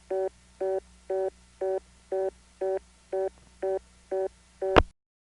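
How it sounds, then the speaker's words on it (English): Reorder tone from the Stromberg XY telephone exchange in Pendergrass, Georgia: ten evenly spaced short bursts repeating at a fast steady rhythm over a low hum, ending with a sharp click. "This is the Pendergrass reorder, of course"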